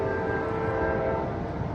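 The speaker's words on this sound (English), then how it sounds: "you gotta love that beautiful horn on Amtrak 14" An Amtrak Coast Starlight train, number 14, led by a P42DC locomotive passing Oakland Coliseum station, sounds its horn in a loud, sustained chord blended with rumbling rail noise.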